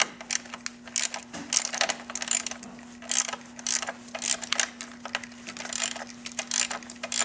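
A ratchet wrench unbolts a bracket during motorcycle work, making a rapid series of close, crisp clicking bursts that repeat in uneven runs over a faint steady hum, with no voices.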